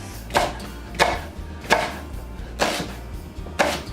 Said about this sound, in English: Peel it and then cut them into strips